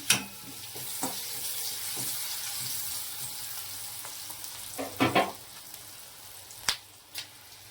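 Curry leaves and green chillies sizzle in hot oil for a raw papaya sambharo, a steady bright hiss broken by sharp pops and stirring clinks.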